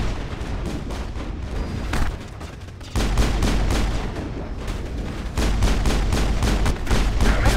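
Gunfire in the video game Mass Effect, rapid bursts of repeated shots in a dense rhythmic stream, loud and close, with brief pauses between volleys.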